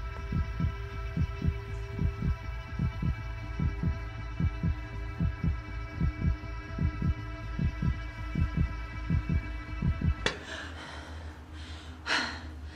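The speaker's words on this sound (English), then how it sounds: "Isn't it crazy that your heartbeat get faster when you don't breathe?" Heartbeat thumping in a steady double-beat rhythm under a low electronic hum, loud and close, then cut off by a sudden burst of noise near the end.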